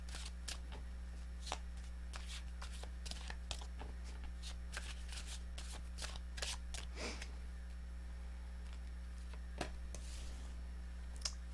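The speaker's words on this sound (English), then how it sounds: "How does Aquarius feel towards this connection? 3 shuffles." Tarot cards being shuffled by hand at close range, a quick series of crisp riffling flicks and soft slaps that come in uneven bursts over a quiet steady hum.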